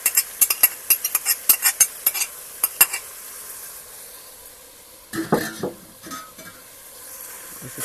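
Meat goes into a pot of sautéed potatoes, starting with a quick run of sharp metal utensil clinks and taps against the pot, then a quiet pause before a burst of sizzling and stirring scrapes, no voices.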